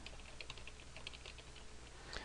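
Soft keystrokes tap on a computer keyboard while text is entered into an Excel 2010 spreadsheet, a faint run of quick clicks over low room hiss.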